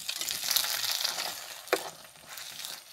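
Quelites and egg fry in a pan on a ranch stove, a steady bright sizzle with a spatula stirring through them and one sharp scrape against the pan, close and moderately loud.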